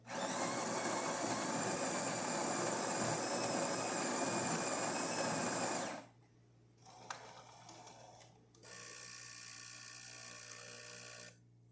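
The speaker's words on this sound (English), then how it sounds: "let's go ahead and test it and make an espresso shot on it after the tune-up" Serviced Jura espresso machine pulling a shot after a tune-up: a loud, steady grinding and pump whir for about six seconds, then a short rattle and a quieter pump hum, close by with no talk.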